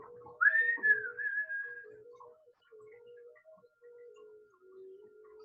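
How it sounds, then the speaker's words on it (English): A person whistles a clear, sustained rising tone, followed by a softer run of steady whistled notes that continue with small pauses, close and alone in a quiet room during a gentle yoga class. "I guess if you're inclined to whistle, you could certainly do that too."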